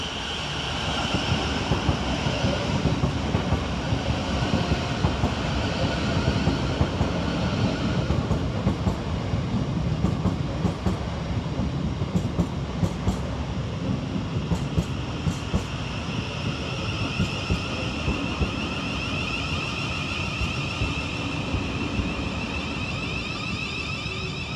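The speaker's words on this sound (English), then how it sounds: "Next to arrive into the station is 700-112, working the 11:37 Thameslink service from Bedford to Brighton." Thameslink Class 700 unit 700-112 on the Bedford to Brighton service pulls into Preston Park station, a loud sustained rumble of wheels and motors with rhythmic rail clatter and a faint high whine building across the length.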